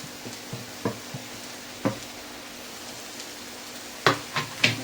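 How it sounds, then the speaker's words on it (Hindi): A spoon stirs spices such as coriander, turmeric, red chili and amchur into stuffed karela in a pan, giving gentle intermittent scrapes and clinks, with a few sharper knocks toward the end and a soft sizzle underneath. "ऐसे हल्के से चलाना है"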